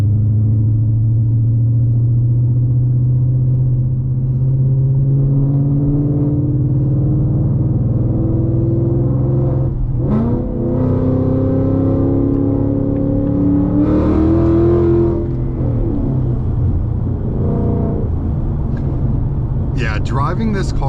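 A Whipple-supercharged Coyote V8 in a 2025 Mustang GT pulls hard on the highway, a deep steady engine drone rising in pitch as it accelerates, with supercharger whine layered above and a person talking over it.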